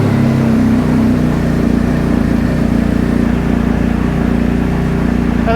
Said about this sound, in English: So what I'm going to try right now is to start the bike up and see if this all comes to life.